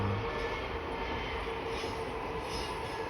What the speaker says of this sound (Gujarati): ટ્રેન આવી ગઈ, બે એન્જિન મળી.